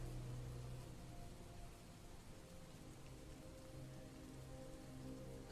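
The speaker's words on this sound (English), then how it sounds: "Yeah, it's raining. Wonderful." Steady rain falls throughout, a dense, even hiss of drops on a surface with no pauses or other sounds over it.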